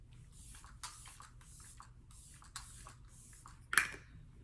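A JS Holy Mist setting spray is misted several times, each a brief airy hiss in a quiet room, followed by a sharper click or tap near the end.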